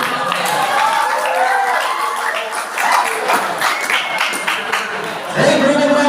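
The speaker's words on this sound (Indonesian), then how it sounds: "Kasih tepuk tangan dulu." Audience claps at a high school student council candidates' debate, with moderate applause and chatter mixed in, and a louder burst near the end.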